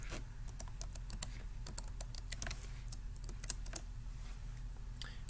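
Someone types a password on a computer keyboard: quick, quiet, irregular key clicks in a fairly close, soft run with no talking.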